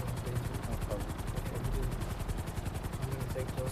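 Helicopter flying overhead in GTA RP, a loud rapid rotor chop pulsing steadily, with voices talking over it and possible bursts of gunfire mixed in.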